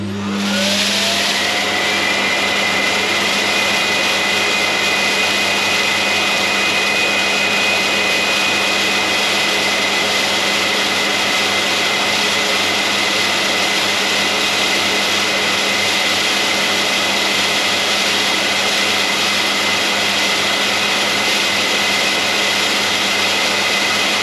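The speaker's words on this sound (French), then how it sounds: "pour le test, on va faire simplement vider le bac à poussière en bas" A Roborock auto-empty dock empties the robot vacuum's dustbin with a loud, continuous roaring whine. The sound starts abruptly and holds steady and close for the whole stretch, with no voices.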